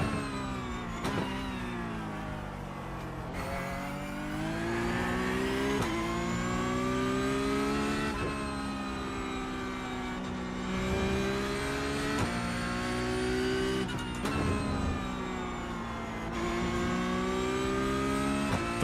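Porsche Cup race car engine in iRacing at Laguna Seca, droning steadily under throttle with rising and falling rev sweeps and brief lifts between corners, loud and continuous with no talk.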